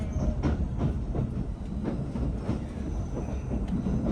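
The SL Yamaguchi steam train runs on the line, heard from inside a carriage as a steady low rumble with rhythmic clickety-clack wheel beats.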